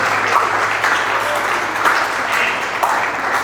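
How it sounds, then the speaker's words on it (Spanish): A church congregation claps steadily and loudly for about three and a half seconds, a dense continuous applause with a faint voice or two beneath it. "Dele fuerte ese aplauso para Dios."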